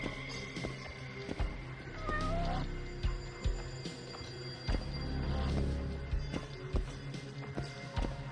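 Short meows from a cat in the Judgment video game, one or two brief rising calls near the start, set against a busy backdrop of game ambience and soft footsteps.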